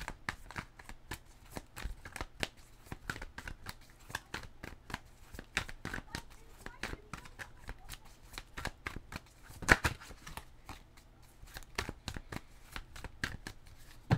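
Tarot cards shuffled and cut by hand in a steady run of crisp riffling flicks and soft slaps, close and fairly quiet, with one sharper snap near the middle and no voices.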